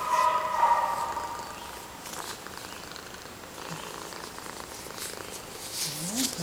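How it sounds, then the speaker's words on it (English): Close, steady purring from a three-legged rescue cat at an animal rescue league, a soft continuous rumble with faint handling noise and no speech. "Hear you purring?"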